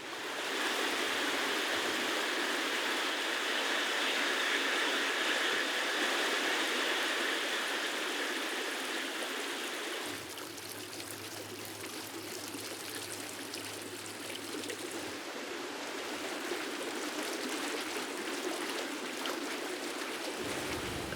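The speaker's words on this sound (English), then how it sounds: "the sound of running water echoes in the cave" A waterfall's water rushes and splashes continuously, echoing in a cave in a garden built in a former stone quarry, a dense, steady roar with a faint low hum joining partway through.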